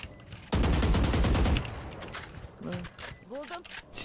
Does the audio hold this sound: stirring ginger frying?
no